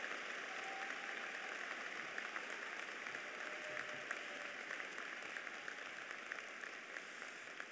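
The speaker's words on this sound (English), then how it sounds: "Give them both a round of applause" An audience at an undergraduate commencement ceremony breaks into sustained applause, a dense, even patter of many hands clapping throughout, fairly distant in a large hall.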